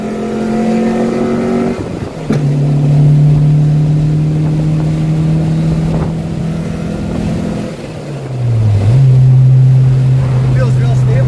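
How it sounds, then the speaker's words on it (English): A 1991-1996 Infiniti G20 with newly fitted coilovers accelerates at speed, its engine droning steadily and shifting pitch. A sharp backfire pop cuts briefly through the drone. "Ooh, that backfire."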